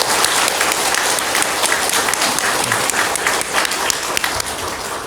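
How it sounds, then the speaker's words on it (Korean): A church congregation gives the choir a sustained burst of loud, dense applause indoors, steady throughout with no talking over it. "이 시간에 우리 한번 반석 찬양대 한번 박수 한번 드려볼까요?"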